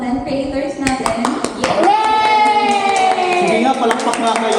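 A group claps in quick scattered bursts at an event at the National Museum Bicol while children and adults cheer and shout excitedly over the applause.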